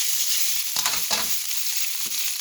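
Pork and curry paste are stir-fried in a hot pan, with a steady high sizzle broken by a few louder scraping stirs of the spatula, close up and without talk.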